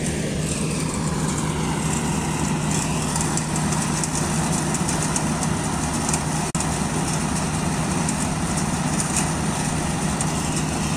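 A combine harvester engine runs in a paddy rice field on the first day of harvest, a loud, constant droning rumble with a steady hum throughout and one sharp click partway through.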